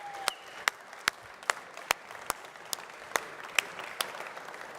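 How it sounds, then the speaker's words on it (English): An audience at a coffee festival applauds steadily, a soft spread of clapping with a few sharper individual claps standing out, fairly distant. "And big applause for Daniel."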